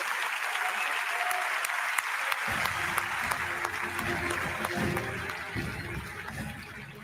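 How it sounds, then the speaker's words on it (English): Sustained audience applause fills a Ballon d'Or 2023 ceremony hall after the Kopa Trophy winner is announced, loud and steady throughout, swelling slightly into denser clapping midway. "a round of applause for the Kopa Trophy winner, Jude Bellingham."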